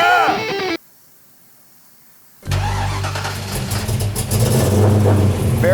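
A car fitted with a modern aftermarket exhaust cranks and fires after a brief silence, then settles into a loud, close, rumbling idle with rising revs.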